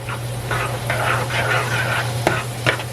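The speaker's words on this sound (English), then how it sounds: "I'm going to go ahead and finish stirring this up. I have the pork chops in now." Pork chops sizzle in a pan while being stirred, with a steady frying hiss, soft scraping strokes and a low hum underneath, plus a couple of sharp clinks near the end.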